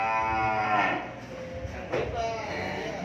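Cattle mooing at a cattle farm, a few low drawn-out calls rising over the pen while people talk loudly nearby.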